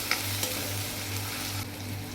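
Chopped tomato with turmeric and chili stir-fries in a pan for an oats and sprouted-pulse breakfast, giving a soft, steady sizzle with a couple of light stirring scrapes near the start.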